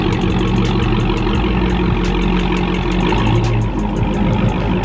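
A 2019 Dodge Charger Hellcat idles nearby with a deep, steady, rumbling drone that holds evenly for several seconds, with faint ticking clicks above it.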